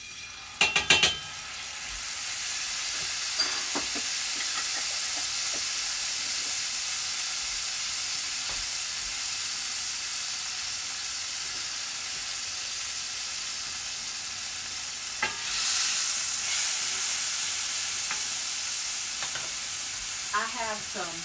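Minced garlic sizzles in a pan over lowered heat while cooking Tuscan chicken and spinach pasta. A steady, close frying hiss runs throughout, with brief utensil clatter near the start and a louder surge about two-thirds through.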